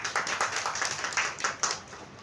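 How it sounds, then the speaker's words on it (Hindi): A room of people clapping to welcome a guest at a women's safety organisation's foundation day ceremony, a steady moderate patter of hands with a few louder claps standing out, heard alone without talk. "आइए एक बार आप लोग से निवेदन करती हूँ जोरदार ताली से स्वागत"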